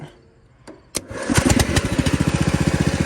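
Engine of a cheap secondhand lawn mower cranking briefly, then catching at half throttle and running steadily with a fast pulsing rhythm, loud and close.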